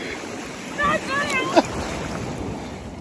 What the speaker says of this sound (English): Bro, these waves is getting bigger and bigger.